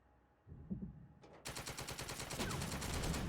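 Rapid gunfire on a house in a WW2 strategy video game, a faint thump or two, then a sudden loud burst of rattling automatic fire that keeps going in quick, even bursts.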